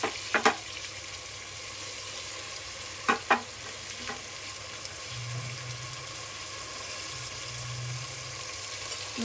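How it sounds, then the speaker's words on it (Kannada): Leafy greens frying in hot oil with masala for pulao, a steady low sizzle with a few sharp stirring clinks and scrapes against the pan scattered through it. "ಅದು ಚೆನ್ನಾಗಿ ಫ್ರೈ ಆಗಿ ಸ್ವಲ್ಪ ಮಸಾಲೆ ಆಗಬೇಕು, ಅಲ್ಲಿವರೆಗೂ ಫ್ರೈ ಮಾಡಿ"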